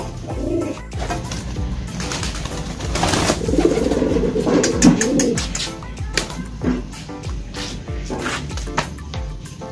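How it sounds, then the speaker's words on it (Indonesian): Losdor racing pigeons cooing close by in a loft, a run of soft repeated coos with some wing flutter and background clatter, no talking. "Ini merpati di sini teman-teman giringannya bagus-bagus banget."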